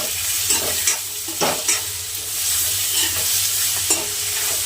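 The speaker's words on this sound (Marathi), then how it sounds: "ते व्यवस्थित भाजून घ्यायचं." Whole spices roast in a dry pan, with soft sizzling under repeated scraping stirs that come close and fairly clear.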